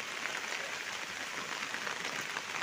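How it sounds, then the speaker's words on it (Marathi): Steady monsoon rain falling around a village with a water pipe, an even, dense hiss of drops with no pauses, fairly quiet and uninterrupted by talk. "बघा पाऊस एकसारखा आहे."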